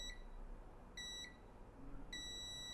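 Multimeter continuity tester beeping while probing components on a phone board, three short bright electronic beeps spaced about a second apart over a quiet hum.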